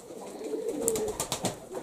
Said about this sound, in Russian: Голуби наши, голуби, голуби, голуби.